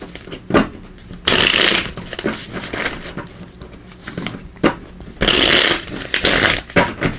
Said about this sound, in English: We, of course, will also pull some cards here from the Everyday Tarot